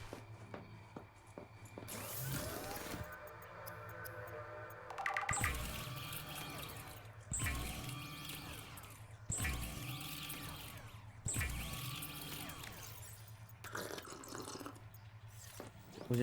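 Water being made in Subnautica 2: repeated liquid pours and drips sound in bursts, each a few seconds long, under a quiet steady background hum.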